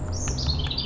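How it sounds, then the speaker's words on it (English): Birds chirp in Paris in a rapid run of high, bright notes over a low background hum. "Hear the birds chirping?"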